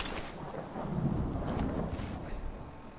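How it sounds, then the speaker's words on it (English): Rain and thunder in Fallout 4 with the Sim Settlements 2 mod: a low rolling thunder rumble swells over a steady wash of rainfall, fairly quiet and heard alone. "I feel like it's been raining in game for 3 days straight."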